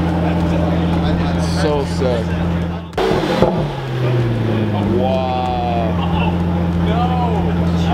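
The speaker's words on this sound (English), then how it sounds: "Revving the Utopia," A Pagani Utopia supercar engine revs sharply at an outdoor car event, a loud rising burst in the middle that settles back to a deep idle, with excited voices talking nearby.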